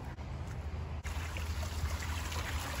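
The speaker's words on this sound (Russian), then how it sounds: "Здесь такой искусственный водопадик." A small artificial waterfall in a riverside park by the Dnieper trickles steadily in a soft, continuous wash of running water, with no voices.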